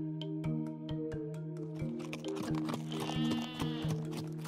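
In a children's Bible story, a sheep sound effect gives a wavering, quavering bleat over steady background music, with soft clopping taps before it, close and moderately loud.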